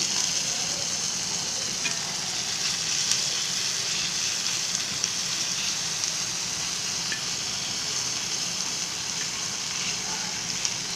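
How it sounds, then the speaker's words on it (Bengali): Dried mola fish fries with onion and garlic in oil in a tawa pan. A constant close sizzle runs unbroken, with occasional soft pops and stirring and no voices. "এগুলো একসাথে ভাজা ভাজা করতে হবে"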